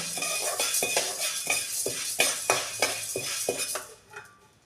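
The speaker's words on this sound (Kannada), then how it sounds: "ಇವಾಗ ಉದ್ದಿನ ಕಾಳನ್ನು ಹಾಕೊಂಡು ನೋಡ್ಕೊಂಡು ಅವನು ಸಣ್ಣ ಹುರಿತೀನಿ" Urad dal roasting in a pan is stirred with a metal spoon, giving repeated close scraping clinks in a steady rhythm over a light sizzle, fading out at the end.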